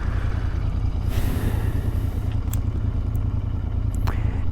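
Royal Enfield motorcycle riding, its engine giving a steady, loud, low thumping rumble throughout, with faint clatter over it.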